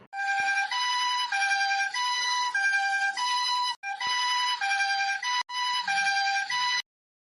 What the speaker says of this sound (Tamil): ஏக்கா சீக்கிரம் போங்கக்கா நம்மளும் ஆம்புலன்ஸ்ல ஏறி போவோம்